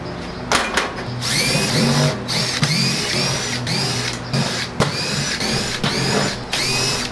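Power drill running steadily to back screws out of an RV, a close whining motor that rises and dips in repeated pulses, with occasional clicks and knocks.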